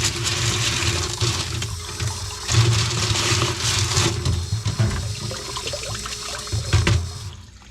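Tumbled rocks from a rock tumbler being rinsed under steady, loud rushing water that pours and splashes continuously, close up, with faint clatter of stones in the flow.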